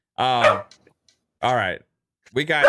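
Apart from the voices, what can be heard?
dog barking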